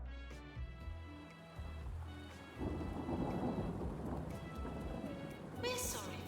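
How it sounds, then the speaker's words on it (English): A thunderstorm in the video game Two Point Hospital: steady rain with low rumbling thunder that swells midway, layered over tonal game music, with no talk. "Electrical storms."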